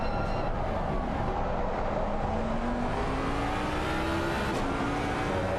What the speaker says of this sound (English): Quick double downshift into 14.